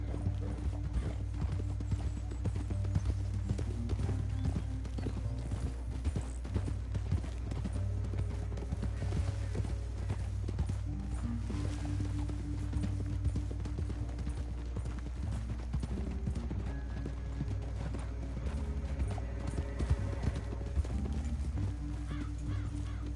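Continuous clip-clop of hooves from several horses galloping in the video game Red Dead Redemption II, steady and close over a low rumbling background, with no clear speech.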